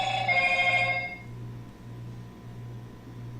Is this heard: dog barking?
no